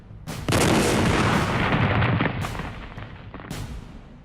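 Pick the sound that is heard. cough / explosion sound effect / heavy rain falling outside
explosion sound effect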